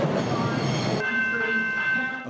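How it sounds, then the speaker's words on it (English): Steam trains rolling into Richmond Station in Melbourne around 1910, a loud, steady rumble of rail cars with a whistle-like tone standing out after the first second, sounding close and continuous. "Steam trains rolled into Richmond Station."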